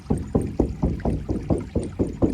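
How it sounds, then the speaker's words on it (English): A skin drum is struck in a slow, steady beat, about ten deep resonant thumps each ringing briefly, close and alone with no voices. "I'll be using a drum, a skin drum,"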